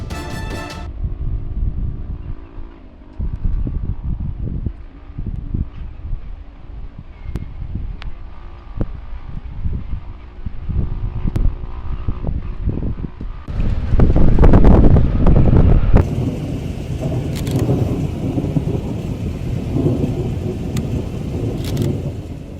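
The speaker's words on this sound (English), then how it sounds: "A rare tornado appeared suddenly in a Dutch coastal city, destroying homes and leaving behind unprecedented terror." Tornado winds roaring through a Dutch coastal city, a heavy rumbling gust-laden roar with buffeting wind noise on the microphone, swelling louder midway and staying intense with crackling debris-like hiss.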